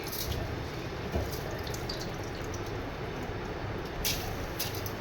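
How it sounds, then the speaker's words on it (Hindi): Washed rice tips into a pot of boiling water for chicken yakhni pulao, giving a continuous watery rush and bubbling with a couple of brief splashes, steady and close. "अब चावल डालते हैं इसमें।"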